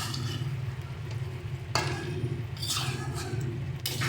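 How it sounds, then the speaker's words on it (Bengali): Chicken curry with potatoes is stirred in a pan after gondhoraj lemon goes in, a continuous low sizzle and bubbling with soft scraping and a couple of faint clinks of the spoon against the pot. "লেবুটা দিয়ে একটু ভালো করে এটাকে নাড়িয়ে নেব।"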